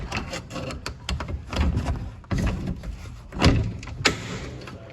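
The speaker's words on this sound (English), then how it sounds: "Forcing entry through the lock." A locked door is forced open with a key tool during fire-school forcible entry training, giving irregular metallic clunks, scrapes and knocks up close, with a sharp crack near the end.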